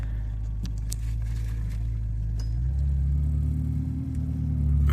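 A 2010 Ferrari California, with a gearbox and transmission fault, idles with a steady low rumble, then shifts from reverse into drive, and the engine note deepens and swells slightly louder. No one speaks.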